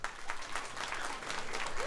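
Brief burst of crowd applause at a Colombian stand-up comedy show, dense and fairly loud, with a few faint voices mixed in.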